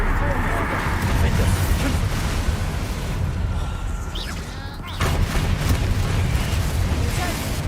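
A Confringo spell blasts in Hogwarts Legacy, giving loud, sustained explosive rumbles and bursts that dip briefly before surging again, with a voice talking over them.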